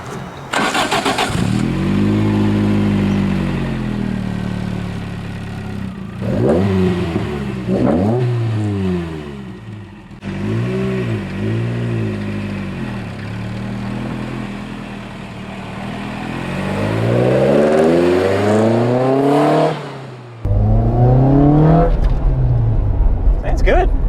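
A Toyota AW11 MR2 with a 4A-GE blacktop engine pulls through repeated rising revs and gear changes, heard close from inside the cabin, its loud engine note climbing and dropping over about twenty seconds.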